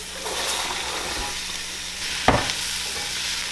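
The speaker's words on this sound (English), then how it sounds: "we're gonna saute this until the onions get" Onion, celery and softened baby potatoes sizzle steadily in a pan, a close, continuous frying hiss broken by one sharp scrape of stirring partway through.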